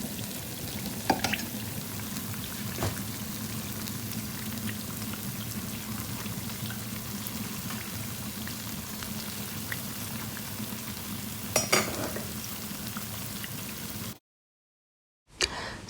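Puff-puff dough balls fry in hot oil, a steady soft crackling hiss running throughout, with a few brief clinks as the balls are turned, then a short silence near the end.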